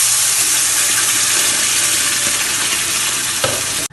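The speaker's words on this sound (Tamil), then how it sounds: "நல்லெண்ணெய் போட்டு கடுகு 1 ஸ்பூனு, உளுத்தம்பருப்பு 1 ஸ்பூன் போட்டு பொரிய வச்சுக்கிறோம்" Mustard seeds and urad dal splutter in hot sesame oil, a loud continuous crackling sizzle heard close up with one brief clatter near the end.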